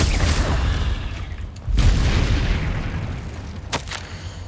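Explosive Confringo spell detonating in Hogwarts Legacy, a loud booming blast over a rumbling game background, followed a moment later by a sharp pop.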